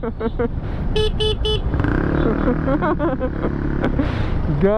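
Busy street traffic in the Philippines with motorcycles and cars, repeated short car horn toots cutting through a steady engine rumble, loud and close; a voice is briefly heard.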